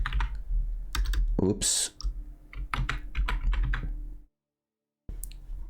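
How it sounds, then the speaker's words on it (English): Clicky keystrokes on a computer keyboard while a search term is typed for a Gwent card, coming in quick irregular bursts with a brief silent gap near the end; a voice briefly says a word. "if you type Waylay, on the keyboard, in the search engine"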